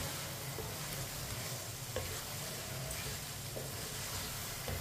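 Chicken biryani cooks in a pot over a raised flame, giving a continuous, even sizzle and bubble at moderate level with a few faint ticks, and no talking.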